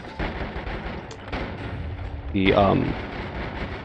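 Gunfire bursts in the game Noita, a short crackling volley of shots mid-clip over a busy noisy game soundtrack, with a voice talking throughout.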